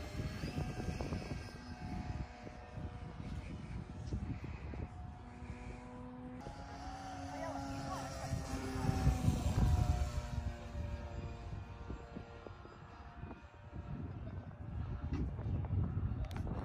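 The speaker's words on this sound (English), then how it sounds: "now we're gonna sit here and fly this beautiful RV8" A Van's RV-8 light airplane drones steadily in flight from inside the cockpit, its engine tone holding a continuous hum with slight swells, and nobody speaks over it.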